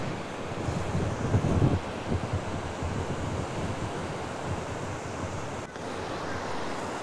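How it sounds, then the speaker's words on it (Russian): Sea surf breaking on a shore with strong wind gusting into the microphone, a steady loud wash of waves and rumbling wind noise throughout, with no voices. "Слишком сильно будет то, что море, звук, шум волн. Ветер мне навстречу."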